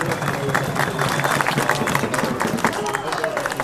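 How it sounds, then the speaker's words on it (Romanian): An outdoor crowd applauds after a weapons and formation demonstration, steady clapping mixed with crowd murmur and some nearby chatter for a few seconds. "Haideți să aplaudăm."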